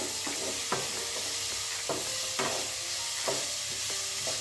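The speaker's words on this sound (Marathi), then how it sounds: "मी इथे थोडासा गूळ घालते ते सगळं व्यवस्थित मिक्स करून घ्यायचं आहे आपल्याला" Jaggery is stirred into a bitter gourd curry in a pan, a soft steady sizzle with a spoon scraping and tapping the pan in a loose repeating rhythm, close by and with no voices.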